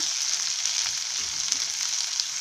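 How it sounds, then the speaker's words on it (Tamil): Onion, tomato and capsicum fry in a pan with a steady, bright hiss and fine crackling, close and even throughout, with a few soft stirring bumps underneath and no talk. "இதையும் நம்ம சேர்த்து ஃப்ரை பண்ணிக்கலாம் பாருங்கள் வெங்காயம் தக்காளி குடமிளகாய் எல்லாமே நல்லா வதங்கிருச்சு"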